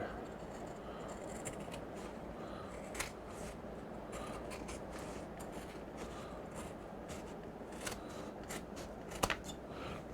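Scissors snip through embroidered bag fabric in repeated crisp cuts over a steady background hum, with faint speech in places.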